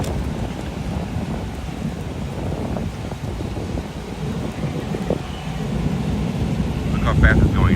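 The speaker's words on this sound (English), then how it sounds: "It's too windy out here." Strong outdoor wind beside a spreading brush and tree fire, a steady low rumbling buffet on the microphone that swells toward the end, with a voice faintly present beneath.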